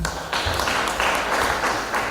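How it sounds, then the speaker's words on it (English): Schoolgirls clapping for a presenter in a high school hall, a steady patter of hand claps filling the room for about two seconds at moderate loudness. "Let's clap for her."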